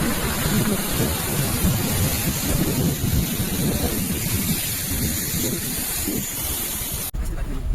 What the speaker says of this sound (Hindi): मौसम ने करवट ली और बारिश का मौसम बन गया